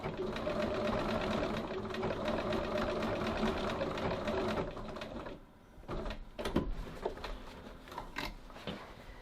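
A sewing machine back tacks a pocket seam, whirring steadily and fairly loudly for about five seconds before stopping, followed by a few short bursts of stitching and handling clatter.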